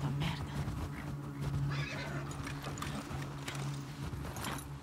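In The Last of Us Part II, a horse whinnies loudly up close while its hooves clop and shuffle underneath in an uneven rhythm, amid low rumbling game ambience.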